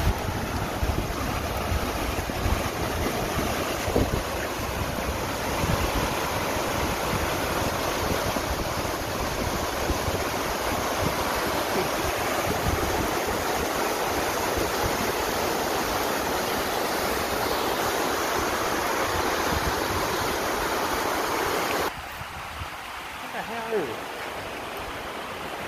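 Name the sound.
rushing whitewater stream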